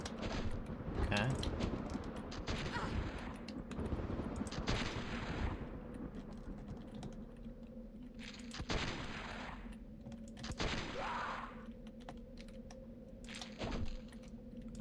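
Hand cannon blasts in Abysm X: Dance of Blood, several sharp bursts spaced a few seconds apart over a droning background, with rattling clicks in between.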